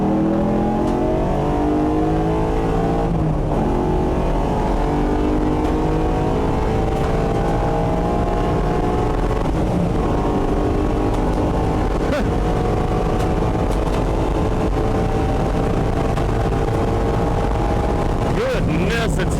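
A 2017 Ford Mustang FP350S race car engine roars close by at VIR, its pitch climbing and dropping through gear changes as it speeds around the track.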